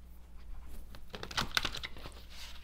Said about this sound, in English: Just bear with me while I shuffle until it feels right.